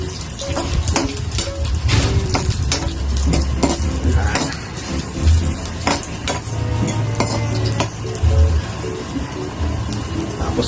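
Onion frying in a pan for Ilokano pinikpikan manok makes a constant crackling sizzle, broken by frequent metallic clinks and scrapes of a utensil against the pan.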